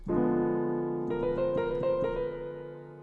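A quick chromatic run of piano notes climbing step by step, ringing clearly and evenly with sustained tones, played alone.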